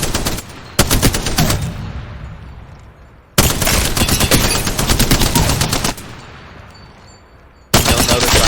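Weapon fire in the video game Apex Legends comes as three loud, rapid automatic bursts, each a close, dense stream of shots followed by a fading echo tail before the next burst.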